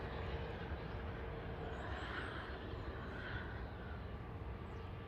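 Jet aircraft engine spooling up at Manchester Airport, a steady broad roar held at a distance, faint and continuous with no break.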